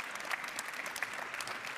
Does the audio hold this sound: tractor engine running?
no